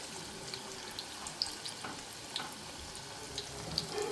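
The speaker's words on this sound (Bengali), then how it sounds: "একে একে আমি কয়েকটা পেঁয়াজি দিয়ে দিলাম।" Onion pakoras (peyaji) fry in hot oil, making a steady close sizzling hiss scattered with small pops and crackles, with no voices over it.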